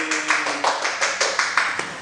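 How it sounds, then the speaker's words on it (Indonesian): A few people in a podcast studio clap in a steady, even rhythm of about ten close, fairly loud claps over two seconds, with a faint hum underneath. "Kamu kalau saya habis ngomong tepuk tangan gitu loh."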